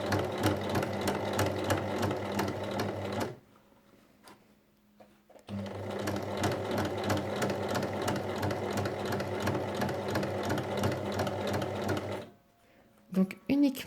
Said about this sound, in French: on va juste venir piquer la poche en bas, ici. Donc là, on pique à 1 mm du bord